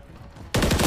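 Sniper rifle fire in the Call of Duty MW3 multiplayer beta: a quiet game background, then a sudden loud burst of shot sound filling the last half second.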